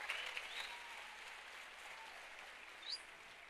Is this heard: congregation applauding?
yes